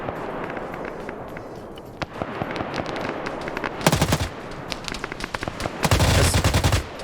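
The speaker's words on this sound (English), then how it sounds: "we only hear one of those guns going off compared to the other tower where multiple guns went off" Guns firing from a tower in a video game: bursts of rapid automatic shots, sharp and fairly close, with scattered single cracks, the heaviest bursts near the middle and end, no talking.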